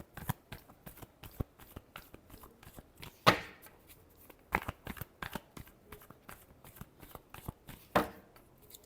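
Tarot cards are shuffled by hand in a quiet room, a steady run of soft riffling flicks broken by a few sharper snaps as the deck is cut and bridged.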